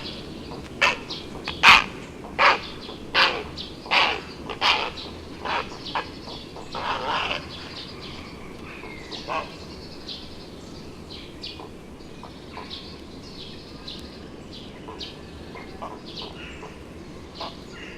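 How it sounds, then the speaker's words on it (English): Herons call from stick nests high in woodland trees in March, a run of loud, harsh, evenly spaced croaks up close, then scattered fainter cries and small chirps of tree sparrows over a quiet background. "Herons often build their nest platforms of sticks in tall trees in woods, and these resound in March with the most extraordinary noises"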